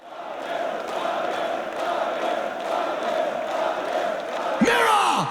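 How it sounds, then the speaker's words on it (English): A large audience at a live metal concert roars and cheers in a steady, loud wash of voices throughout, with a brief singing voice rising near the end. "What a crowd."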